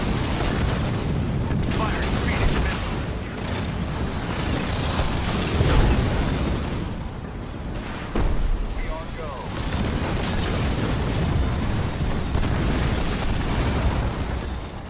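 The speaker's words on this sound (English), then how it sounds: "Firing Phoenix missiles." Phoenix missile strikes in the Halo Wars 2 video game amid a chaotic 3v3 battle, a dense run of booming blasts and rumbling impacts over continuous combat noise, with voices speaking throughout.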